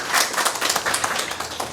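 An audience at a Kenyan service-desk launch ceremony claps again for the CEO, a short round of uneven individual claps at moderate distance, without speech.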